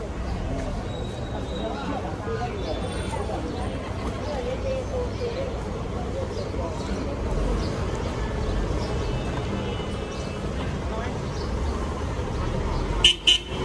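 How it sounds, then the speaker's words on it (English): Busy street traffic on 20th Street in Yangon's Chinatown, a steady hum of passing vehicles with a few car horn toots near the end, heard close amid the street bustle. "Quite busy traffic atmosphere now."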